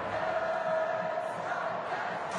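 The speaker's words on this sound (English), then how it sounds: "there's a chant going around Adelaide Oval" Huge crowd of nearly 40,000 chanting at Adelaide Oval during a Big Bash cricket match between Adelaide Strikers and Sydney Thunder, a steady roaring wash of massed voices with a sustained chanted tone throughout.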